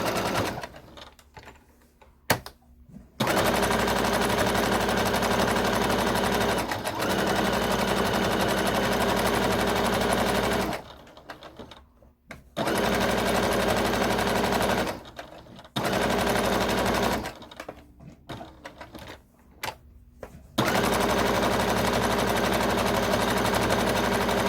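Sewing machine running at stitch length 3.0 straight-stitching thick terry cloth, loud steady whirring bursts of several seconds each, separated by brief pauses.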